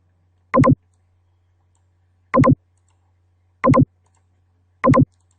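A computer mouse clicks while a logo is inserted into a document, four sharp double clicks spaced a second or two apart over a faint steady hum.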